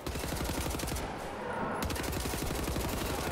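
Sustained rapid automatic gunfire in Wolfenstein: The New Order, loud and dense with a brief dip near the middle, no voices over it.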